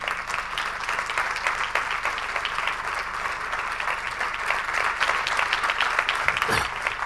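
An audience at a live talk about radio applauds steadily and loudly throughout, a dense continuous wash of clapping with no voices over it.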